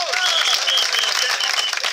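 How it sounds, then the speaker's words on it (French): At a union rally in Dapaong, Togo, a crowd applauds loudly, the clapping thick and continuous and mixed with raised voices and shouts throughout. "Applaudissez parce qu'on aura quelque chose"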